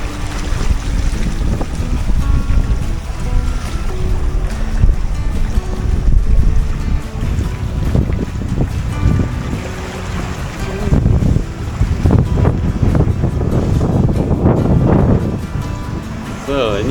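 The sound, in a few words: wind and rough sea on a sailboat passage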